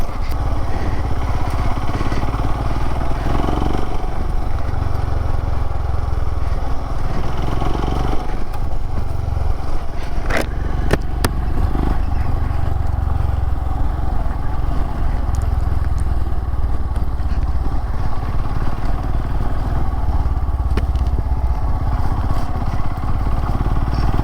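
A motorcycle rides an off-road trail through grassland near Bengaluru under cloudy skies, its engine droning loud and steady throughout with brief clattering bumps.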